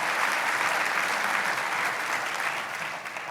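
An audience at a YMCA of Greater Kalamazoo community breakfast applauds corporate sponsors, dense, sustained clapping at a steady volume that starts to fade near the end.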